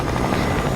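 A helicopter in the Fortnite video game gives off a steady, loud, dense rotor and engine drone throughout, heard close and continuous with no voices.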